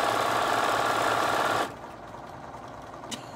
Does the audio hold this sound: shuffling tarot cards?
no